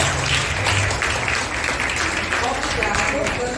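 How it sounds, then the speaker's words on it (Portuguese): At a children's church anniversary event, an audience applauds students in a dense, continuous burst of clapping, with voices mixed in. "Vamos bater palmas para os nossos alunos que nos convidaram"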